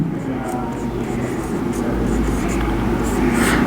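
Writing on a board during a classroom lesson: a continuous scratchy stroke sound running steadily throughout over a low background hum.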